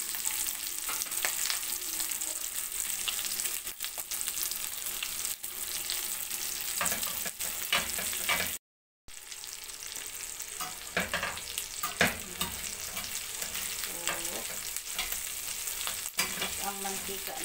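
Pork frying in its own rendered fat, a steady dense sizzle and crackle with occasional stirring clatter, running continuously apart from a brief dropout midway, with no talk.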